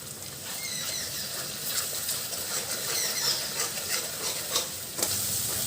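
A ground paste of cashew, char magaz and raisins goes into well-cooked frying masala in a pan, producing a close, continuous sizzle with scraping stirring strokes and a sharper clack near the end.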